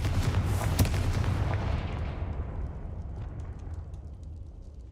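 Confringo fire spell in Hogwarts Legacy bursting into a loud, deep explosion, then a long rumbling roar that slowly fades and dulls over several seconds.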